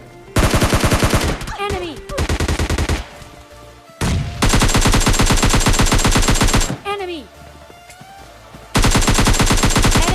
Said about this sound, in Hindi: फायरिंग की आवाज़।